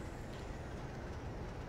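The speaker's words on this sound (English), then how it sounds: "Sounds like we can hear another train" Another train passes in Train Simulator 2021, a steady, faint rumble of rolling rail noise holding evenly throughout, with no talking.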